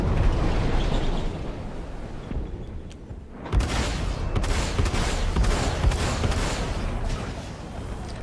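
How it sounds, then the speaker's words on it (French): Enemy ships firing on the player's ship in Star Citizen: rapid crackling bursts and booming impacts break in after a quieter rumbling stretch, then a dense barrage continues. "Ouais, on nous tire dessus."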